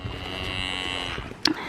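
Cattle on a farm give a long, drawn-out moo at moderate distance, followed by a brief sharp knock near the end, against a quiet outdoor background.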